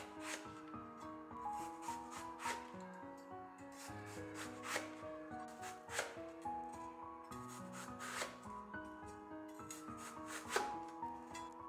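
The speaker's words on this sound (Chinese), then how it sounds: "然后再斜刀45度将苦瓜剔成薄片" A knife slices a halved bitter melon into thin slices at a 45-degree angle, giving soft, rhythmic scraping cuts that repeat every second or two, faint and close, over gentle background music.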